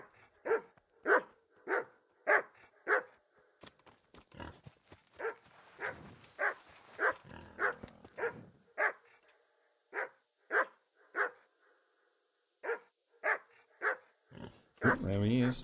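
Dogs in Kingdom Come: Deliverance bark repeatedly in a steady rhythmic series of sharp, mid-distance woofs, with someone talking intermittently over them.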